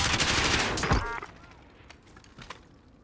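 Gunfire in the video game Modern Warfare, a loud burst of rapid shots at the start that cuts off sharply after about a second, followed by a few fainter scattered cracks.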